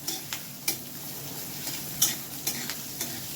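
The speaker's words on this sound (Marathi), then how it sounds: "तेलामध्ये बारीक चिरलेला कांदा, आणि कांदा आपल्याला चांगला परतून घ्यायचा आहे." Finely chopped onion sizzles in hot oil in a kadhai over high heat, with a steady frying hiss and repeated close scraping clicks of a spatula stirring it.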